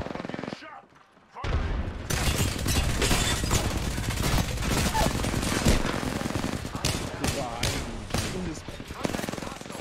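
Sustained automatic fire from the Devotion machine gun in an online shooter video game, a dense rapid rattle running for several seconds after a brief quiet moment, with players talking over it.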